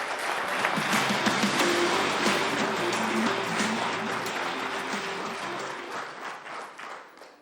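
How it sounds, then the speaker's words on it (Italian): A crowd gives the Tigullio archers a warm round of applause at an Italian sports event, dense clapping that holds steady and then gradually tapers off, with a faint tonal murmur of voices beneath. "un applauso anche per loro"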